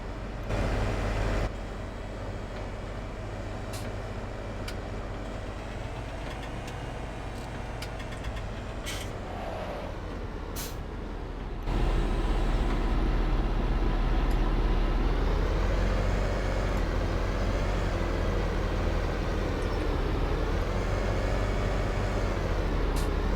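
Case Magnum tractor engine in Farming Simulator 17, a steady low droning idle that jumps to a louder, fuller running note partway through and then holds with slight rises and dips, with a few faint clicks early on.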